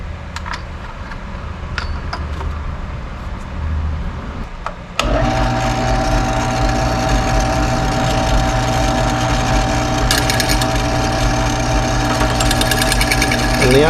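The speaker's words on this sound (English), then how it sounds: "I just want to drill in there deep enough for it to pull the remnants of the old tube out." A power drill with a 1/8 inch bit starts up and runs continuously at high speed, a loud steady whine with grinding as the bit bores into a metal KZ motorcycle carburetor, after quieter handling noise.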